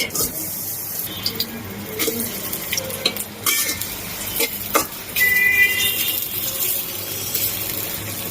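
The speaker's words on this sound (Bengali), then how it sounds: "সর্বপ্রথম দিয়ে দিলাম তেল, তারপর দিয়ে দিব পেঁয়াজ" Onions sizzling in hot oil as a fish dish is started, a close crackling fry with scattered clinks and scraping stirs of a utensil against the pan.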